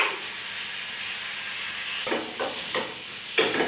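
Onions with salt frying in a small iron pan, a soft continuous sizzle, then a few scraping stir strokes near the end as they are turned, nearby and fairly quiet.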